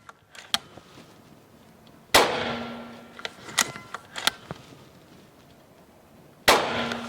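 Challenger Pro PCP air rifle firing five shots: sharp isolated cracks spaced several seconds apart, some followed by brief ringing and small metallic clicks, close and loud against a quiet background.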